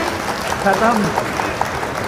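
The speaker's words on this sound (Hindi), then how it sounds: "एक बार अपने लिए जोरदार तालियां बजा दीजिए" A crowd at a Hindi-Urdu poetry recital gives itself loud applause, a continuous wash of clapping with voices audible through it.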